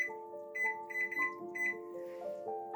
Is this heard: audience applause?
no